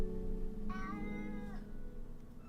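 A single drawn-out cat meow, close and clear, rising then falling, over a low background hum.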